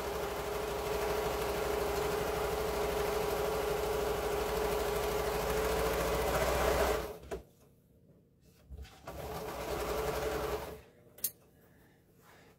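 A sewing machine stitches a quilt block seam with a steady whirring motor hum for about seven seconds, then stops; a second brief burst of stitching follows, with quiet handling noises between.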